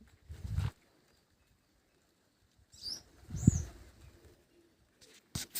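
A pair of pigeons on a village farm coo in low bursts separated by quiet gaps, with wing flaps and brief rustles nearby.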